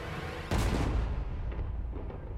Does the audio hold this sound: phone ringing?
no